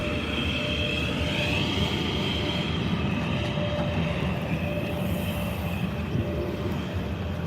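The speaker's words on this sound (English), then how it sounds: "In a train." Inside a moving train, the wheels rumble steadily on the rails, with a loud, constant low roar, a faint squeal and a rhythmic clatter running through the whole stretch.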